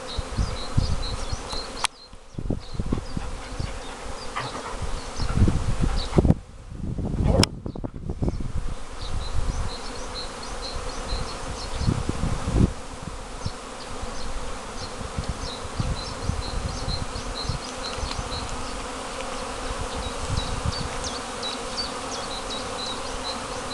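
Honeybees at an apiary in spring bloom buzz continuously in a dense, steady hum, with individual insects droning past nearby and a couple of brief louder bumps.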